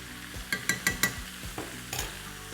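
Radish sizzles in a hot pan over a high flame, with a string of sharp clattering stirs in the first second and another near the end over a steady frying hiss.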